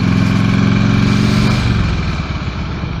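A motorcycle engine runs loud and close after a clutch plate replacement, holding a steady, throbbing drone that eases slightly lower toward the end.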